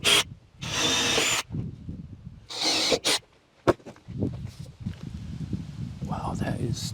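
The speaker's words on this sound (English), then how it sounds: "I gotta drill another hole because I can't come in from that side." A power drill bores a hole through soft material while a sink is being cut out and a countertop installed in a tiny house. Two loud, close bursts of whirring come with pauses between them, followed by handling noise and clatter.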